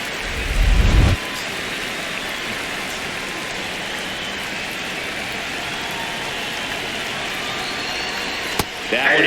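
Heavy rain pours during a baseball game in MLB The Show 26, a dense steady hiss throughout, with a brief low thump at the start and a sharp crack near the end.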